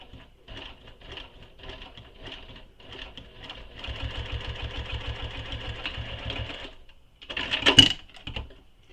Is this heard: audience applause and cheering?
no